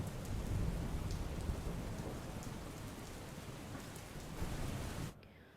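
Heavy monsoon rain pours down in Jamnagar, Gujarat, a dense unbroken roar of drops on surfaces that holds steady and loud before cutting off abruptly near the end.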